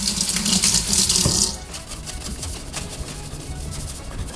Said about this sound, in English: So let's get some water on here first.